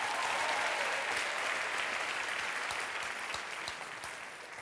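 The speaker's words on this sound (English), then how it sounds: "a round of applause for the award-winning writers Tash Shaw and Joshua Ferris." An audience at the 2021 Scotiabank Giller Prize literary award broadcast applauds the winning writers, a full, even round of clapping that gradually fades lower toward the end.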